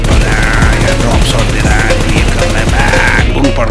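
Rapid, loud automatic gunfire rattles continuously in a BGMI battle, sustained bursts with a steady rhythmic crackle and no talk over it.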